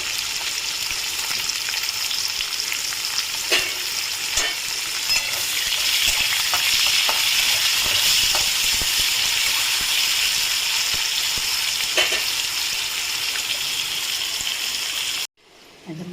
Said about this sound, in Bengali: এবার আমি পেঁয়াজটা দিয়ে দিচ্ছি এতে।